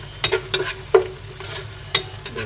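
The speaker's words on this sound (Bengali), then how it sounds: "এই তো মশলাটা কষিয়ে নিলাম।" A spice paste for biryani sizzles while it fries, with a soft continuous hiss broken by sharp spoon clinks and scrapes against the pan, close and fairly loud; no one speaks.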